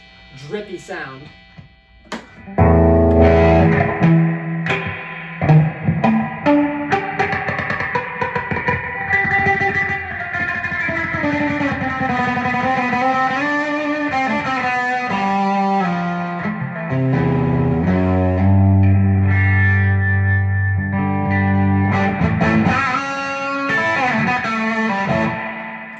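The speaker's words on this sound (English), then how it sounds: "reverb is cool too" An electric guitar played through a pawn shop amp with reverb rings out in sustained, overdriven chords and notes that swell and decay, close and loud, with a lingering wash of reverb throughout.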